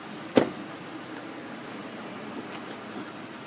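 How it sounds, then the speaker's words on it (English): A single solid thud comes as the door of a 2008 Ford F350 Super Duty dually utility crane truck is shut, followed by quiet outdoor ambience with faint small knocks. "Close the door here for a second."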